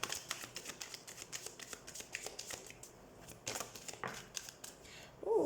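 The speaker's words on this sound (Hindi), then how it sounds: "तो सबसे पहले हम कार्ड शफल कर लेते हैं।" Tarot cards shuffled by hand for a weekly reading, a rapid run of crisp riffling flutters and soft slaps repeating in quick bursts, close and fairly quiet, with a short pause before the flicking resumes.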